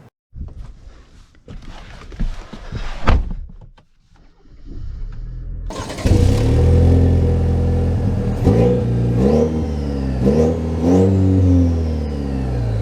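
A Chevy Colorado Trail Boss pickup drives off, its engine rising into a loud revving acceleration with repeated gear-shift sweeps after a quieter stretch of cabin sounds and clicks.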